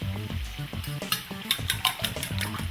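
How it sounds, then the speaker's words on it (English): Potatoes deep frying in olive oil give a steady close sizzle with bubbling crackles and short stirring clatters, continuous and fairly loud with no voices. "Deep fry the potatoes until they are soft, preferably in olive oil."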